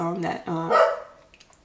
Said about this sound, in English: Sorry if you guys can hear the barking. I currently have a lot of pets surrounding me